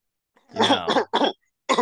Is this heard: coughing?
yes